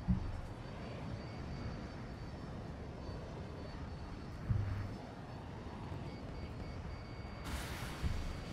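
An airplane engine drones in Battlefield 2042, a steady broadband roar with a few dull thumps and a brief high hiss near the end, no talk.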